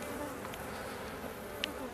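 Honeybees buzz steadily at a beehive during queen rearing, a dense, even drone close by with no voices.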